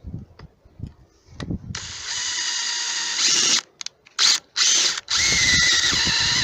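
A drill runs a DeWalt step drill bit into wood, with handling knocks first, then a sustained high whine that stops and restarts in several short bursts before a longer final run.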